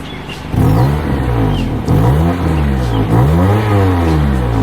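A Honda car's exhaust heard from outside the vehicle, a steady moderate engine drone with rising and falling revs, fairly close and continuous without talk.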